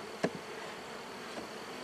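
Honeybees inside a hive during an inspection give a faint, steady hum, with a brief louder buzz near the start and another softer one later.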